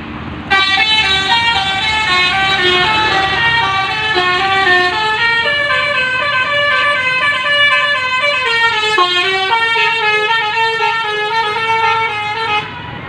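A Keramat Jati bus sounds a loud, melodic multi-tone horn that plays a steady tune for about twelve seconds, close by and clear above the road noise.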